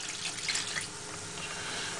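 Water mixed with cornstarch pours into a cooking pot of pepper steak, a soft, continuous liquid trickle and splash, faint and close, with no talking.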